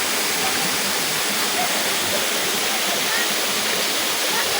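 Busay Falls in Balatan, Camarines Sur, where people bathe, roars close by as a loud, unbroken rush of falling water filling the whole clip.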